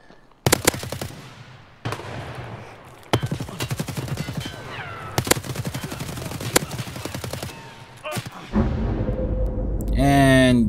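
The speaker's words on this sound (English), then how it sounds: "somebody else started shooting at this guy." Gunfire in the video game Escape from Tarkov, loud bursts of rapid automatic shots in several volleys with single sharp cracks between, ending in a rising whine.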